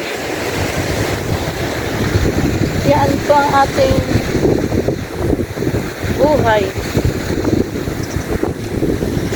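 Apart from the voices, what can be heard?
sea waves and wind by the coast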